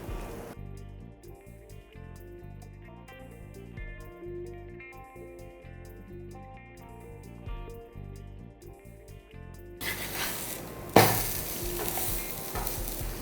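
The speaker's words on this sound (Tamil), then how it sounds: "கொஞ்சமாக எண்ணெய் போட்டுக்கோங்க. போட்டுட்டு நம்ம வந்து இந்த கறி பரோட்டாவை சுட்டு எடுத்துக்கலாம்" Kari parotta meets a little oil on a hot pan and breaks into a loud, bright sizzle near the end, after a long stretch of quiet background music.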